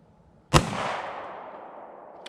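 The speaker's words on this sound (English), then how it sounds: "I'll let you see a couple like this just so you can see the recoil of the pistol" An FNS 9C pistol firing: one sharp, loud shot with a long echoing decay, then a faint second report near the end.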